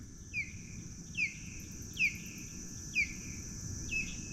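Birds by a lake in the morning give a faint, repeated chirp about once a second over a quiet outdoor background, five calls in all.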